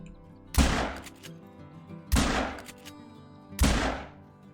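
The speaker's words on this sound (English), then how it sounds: "That was some pretty sloppy shooting on the last one" Three loud rifle shots fired while hunting in the video game Call of the Wild, evenly spaced about a second and a half apart, each a sharp crack with a lingering reverberant tail.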